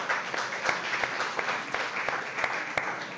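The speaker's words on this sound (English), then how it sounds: "Big round of applause for Gray Robinson." An audience at a chef showdown event breaks into steady applause, dense clapping held at an even level throughout with a few sharper claps standing out.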